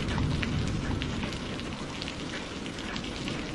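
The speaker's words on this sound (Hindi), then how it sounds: "इतनी देर से बारिश आ रही है, रुकने का नाम ही नहीं ले रही।" Heavy, unbroken rain pours down steadily at night, a dense hissing wash with scattered louder drops close by.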